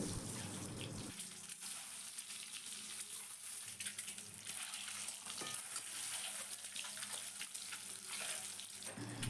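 Eggs frying in well-heated oil in a kadai, a steady close sizzle that stays loud throughout with faint stirring noises, with no one talking.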